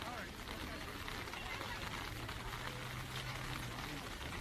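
Steady rain falls on a softball field during a girls' varsity game, a constant, even hiss of drops that holds at the same level throughout with no distinct rhythm.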